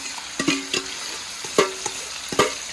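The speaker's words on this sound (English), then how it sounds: "I just add my fish. And I make the oil real hot." Fish and vegetables frying in very hot oil for a Jamaican national dish, a steady close sizzle broken by several sharp stirring scrapes and clinks, with no voices.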